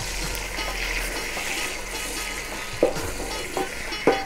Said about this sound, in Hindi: अब इसमें मैं प्याज डाल रही हूँ जो मैंने बॉईल करके इसका पेस्ट बनाया था। अब मैं इसको थोड़ा सा भूनूंगी